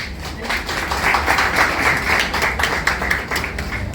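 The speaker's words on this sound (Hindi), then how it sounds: "जोरदार तालियां।" Audience applause for a festival director at Ambala's first literature event, a steady wash of many hands clapping together, moderately loud and sustained throughout.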